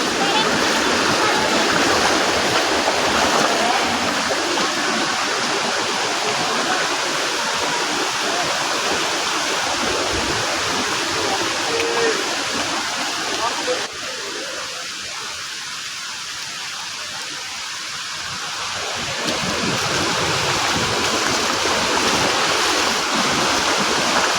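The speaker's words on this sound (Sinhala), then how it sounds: "වතුර පාරක් ඇවිල්ලා" A loud rushing stream of floodwater during Cyclone Ditwah roars continuously, easing briefly in the middle before surging back to full strength.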